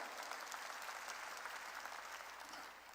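A church congregation claps together during a sermon, a continuous, fairly faint wash of many hands applauding evenly from start to finish, with no voices standing out.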